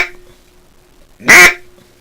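A single short, loud quack blown on a handmade wooden duck call, with near silence before and after.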